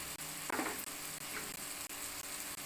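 Soft, steady sizzling of spices (turmeric, chili powder, Kashmiri chili powder) sautéing in a pan, with a brief louder burst of crackle; no voices.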